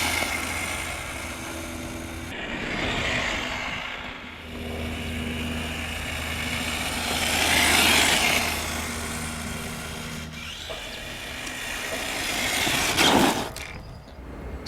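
A Gmade GS02 RC crawler drives in first gear with a faint, whirring electric motor hum that swells and fades as it moves, close by with some scuffing.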